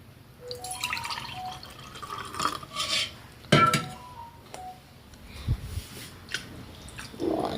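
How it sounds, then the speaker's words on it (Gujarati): A spoon stirs buttermilk kadhi in a pot with wet sloshing and intermittent metallic scrapes and clinks against the vessel, close and moderately loud. "હવે એને હલાવતા રહીશું"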